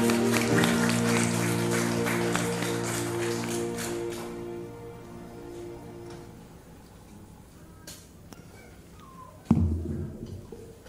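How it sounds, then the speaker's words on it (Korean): Sustained clapping from a congregation at a Sunday church worship service, loud and steady for several seconds before thinning out, with a sharp knock near the end. "우리 주님의 이름 앞에 영광과 감사의 박수 올려드리기를 원합니다"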